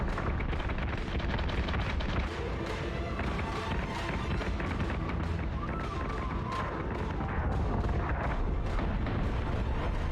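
Spaceship weapons firing in Battlestar Galactica: Deadlock, a dense continuous barrage of rapid booming shots and rumbling blasts throughout, with faint radio-style voices in the mix.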